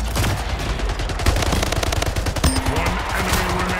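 Rapid automatic gunfire in the Splitgate video game, loud and dense bursts filling the scene, with game sounds and brief voice underneath.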